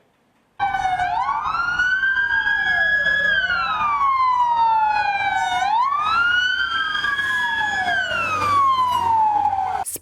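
An ambulance siren sweeps up and down in a loud, continuous wail on city streets, close by and rising and falling in long cycles with faint traffic underneath.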